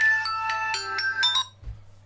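A mobile phone rings with an incoming call, a bright repeating ringtone melody of several quick tones that ends abruptly, heard close and alone.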